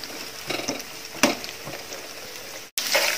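Vegetables frying in oil used earlier for onions while making vegetable biryani, a steady, bright sizzle with occasional stirring clatters and a brief cut near the end.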